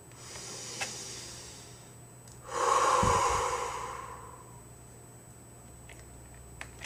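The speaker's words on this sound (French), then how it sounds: "fermez les yeux et prenez une grande respiration" One deep, breathy inhalation swells up close, lasting about a second and a half, then fades into a quiet room hum.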